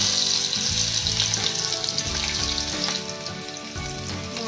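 Finely chopped onion frying in oil with cumin for bread pakora filling, a loud dense sizzle with some bubbling, continuous throughout.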